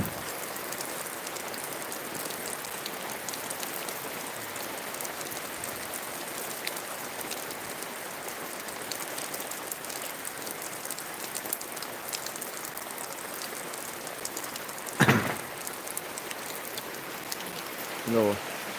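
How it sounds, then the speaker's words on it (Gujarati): Continuous rain pouring down on a surface, a dense hiss of drops with a couple of brief louder knocks near the end. "આવો વરસાદ છે અત્યારે"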